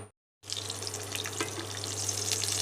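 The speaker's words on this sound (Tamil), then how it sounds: "இப்போ நல்லா ஃப்ரை ஆகட்டும்" Fish wrapped in banana leaf fries in hot oil, a steady close crackling sizzle that starts after a brief silence and continues evenly, with a low constant hum beneath.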